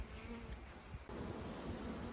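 Honey bees hum steadily around an open nuc hive in a double-brood setup, a dense, continuous buzz of many insects that swells slightly partway through.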